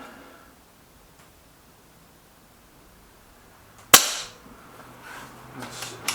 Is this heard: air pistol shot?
yes